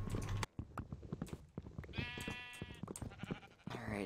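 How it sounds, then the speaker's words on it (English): Several bleats from a baby sheep in a blocky survival-crafting video game, short wavering cries between bits of game noise, fairly close and clear, with players' voices elsewhere around them. "I made a baby sheep."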